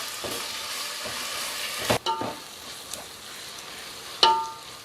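Onions and ginger garlic paste sautéing in a pan for an egg curry, a soft steady sizzle with occasional spatula scrapes and clinks, no voices.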